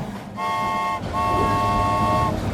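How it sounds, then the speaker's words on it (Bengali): A coal-fired steam locomotive whistle sounds twice, a steady harmonic tone held for about a second each time, loud and near. "এই ট্রেনটি চলছে কয়লা পুড়িয়ে বাষ্পের সাহায্যে"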